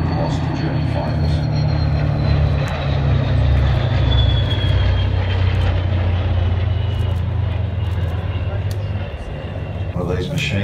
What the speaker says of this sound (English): One of these machines is the aircraft that was rebuilt, flown in 1940 by Howard Squire